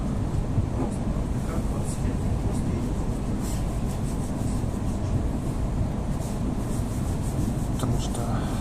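An EP2D electric train rides on ordinary tracks, with a steady low rumble and rolling noise heard from inside throughout and faint clicks and rattles, while someone talks over it.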